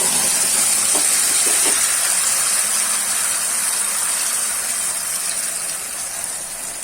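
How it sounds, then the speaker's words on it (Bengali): Blended spice paste dropped into hot oil sizzles with a loud, steady hiss close by, easing off slightly toward the end. "তেলটা আমার গরম হয়ে গেছে এবার আমি যেটা মিক্সিতে বেটে নিয়েছিলাম ওটা দিয়ে দেবো"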